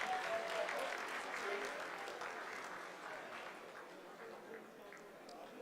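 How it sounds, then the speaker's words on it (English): Sustained applause from a crowd at a live viewing of the Chandrayaan-3 lunar landing's vertical descent phase, a dense steady patter that slowly thins over several seconds, with faint voices in the background. "आप तालियों के गड़गड़ाहट से सुन सकते हैं"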